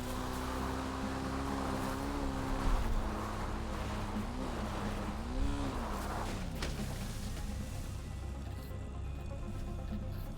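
A motorbike ridden across Cayo Perico island in GTA 5 Online, its engine a continuous close drone that rises and falls in pitch as the bike speeds up and slows, over steady wind-like noise.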